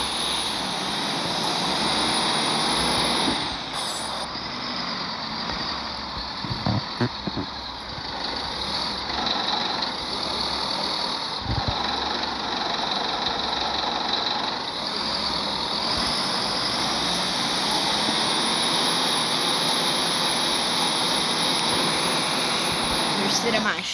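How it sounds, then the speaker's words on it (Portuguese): A vehicle engine runs continuously with a loud, steady drone and high whine, with occasional knocks and clunks, while a voice talks over it. "ia desligar o motor aqui."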